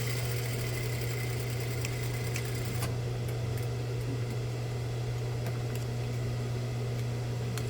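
A sewing machine stitches the seams of a pencil skirt with a steady low hum and light ticking, running continuously without pause and without any talking.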